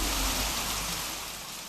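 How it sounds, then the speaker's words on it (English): A steady hiss of falling rain serves as a sound effect in an audiobook reading, fairly faint and continuous throughout, with no voices over it. "it began to rain"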